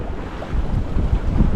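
Gusty wind on a seaside cliff top at high tide rumbles and buffets the microphone in a low, steady roar that swells louder partway through, with faint water sounds beneath.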